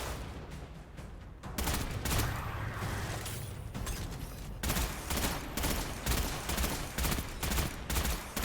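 A weapon firing in the sci-fi shooter Destiny 2: Beyond Light, with loud, sharp shots coming in quick bursts that settle into a rapid, regular rhythm toward the end. Mechanical clicks and booms mix in.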